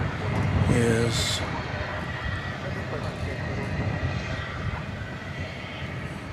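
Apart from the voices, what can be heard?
Airbus A321 airliner, American Flight 1659, arriving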